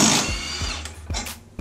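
An impact wrench fitted with a 17 mm socket rattles in short bursts while removing suspension bolts, close and fairly loud, with brief pauses between hits.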